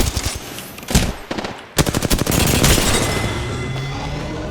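Loud, close rapid automatic gunfire in the video game Apex Legends Season 7, with dense bursts of shots, a brief gap, then a long sustained stream of fire ending in reverberant tail.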